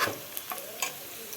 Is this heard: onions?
yes